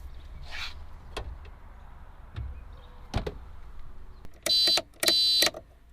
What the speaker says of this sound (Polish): Nawet piszczyk działa.